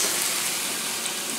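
Onions frying in a pan alongside Angus burgers, giving a steady, close, hissing sizzle with no pauses over a short stretch.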